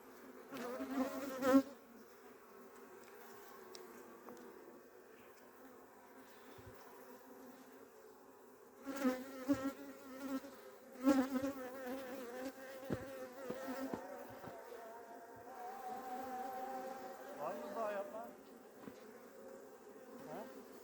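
A dense, steady buzz of many honey bees at an opened hive fills the clip, continuous and close, with a few louder swells as bees pass near.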